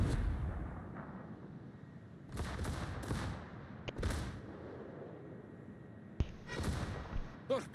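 Naval shell fire in a warship video game: several heavy booming salvos in bursts, a couple of sharp cracks among them, over a low rumbling background.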